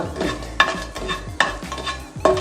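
Whole cardamom pods and cinnamon sticks sizzle steadily in hot coconut oil, the first step of a chicken kurma. Three sharp clinks of a spoon stirring the pan break through the sizzle, with no talking.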